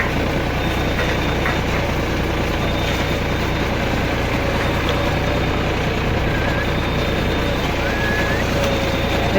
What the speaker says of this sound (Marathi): आपण आता चाललो आहे ट्रॅक्टरमध्ये बसून.